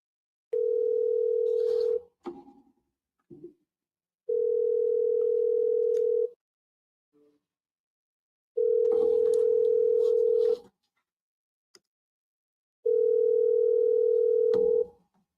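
A telephone dial tone sounds in four long steady bursts separated by silences while a call is placed, with a few faint clicks between, loud and close, no talking.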